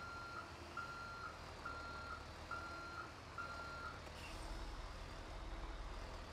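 A truck backing up a trailer in GTA V gives a faint, steady reversing beep, about nine evenly spaced tones over a low engine rumble, ending as the engine note shifts.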